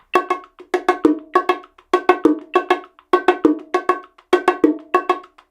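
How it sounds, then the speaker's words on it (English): Bongos play a slow calypso rhythm, with crisp, bright hand strikes falling in a steady repeating pattern of short groups, close and alone. "So we're going to look at two variations of the Calypso rhythm."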